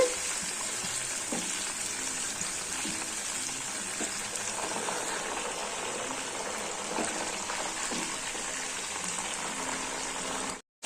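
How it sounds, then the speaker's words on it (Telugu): Peanuts frying in oil in a pan for a spicy masala peanut snack, a steady close bubbling sizzle with occasional light stirring clicks, running evenly throughout without speech. "ఇట్లా కొన్ని కొన్ని వేసుకుంటూ వేయించుకోవాలి మసాలా పల్లి అండి"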